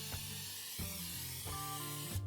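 Cooking spray goes onto a pan in three short hissing bursts, close and fairly soft.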